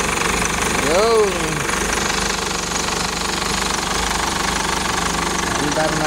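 A Hyundai Tucson engine runs after a crank-but-no-start fault, a loud steady rattling idle with a brief rising chirp early on, while someone talks over it.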